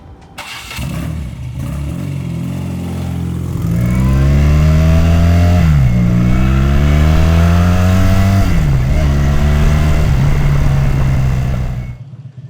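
A BMW R100 bobber motorcycle engine cranks and catches, then settles into a loud, close idle and is blipped through a few rising and falling revs before cutting off abruptly.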